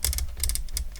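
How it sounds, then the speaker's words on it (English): Plastic parts of a Krups EA89 coffee grinder clicking and ratcheting into place during reassembly, a rapid, close series of sharp mechanical clicks and rattles with no voices. "we can click in place everything"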